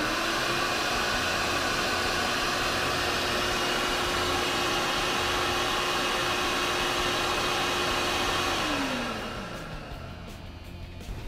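A vacuum motor driving a DIY engine flowbench, a loud steady roar with a constant whine that holds for about nine seconds, then drops in pitch and fades as the unit spins down.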